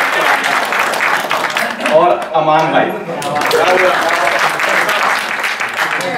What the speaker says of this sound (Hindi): सबसे पहले अब्दुल खबीर भाई के लिए तालियां बजाएं